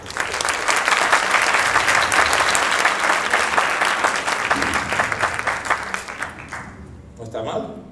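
A large theater audience at a comedy contest in Tacoronte applauds loudly and steadily, dense clapping sustained for several seconds before thinning and fading out near the end, with a voice briefly over it.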